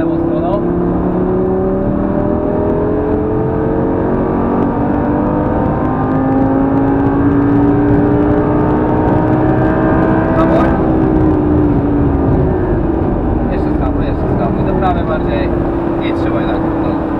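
A Lamborghini Gallardo pulls at full throttle on a racetrack, its engine note climbing steadily through rising harmonic sweeps, loud and close throughout, with an instructor's voice occasionally heard over it.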